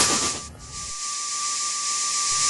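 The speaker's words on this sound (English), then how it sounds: "The whistle got louder and louder and louder." A long, steady high-pitched steam locomotive whistle with a hissing steam wash, holding constant after a brief dip at the start.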